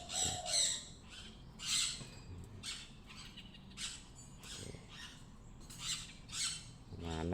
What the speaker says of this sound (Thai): เป็นลูกนกนะครับ ลูกนกแบบรุ่นๆ นะครับ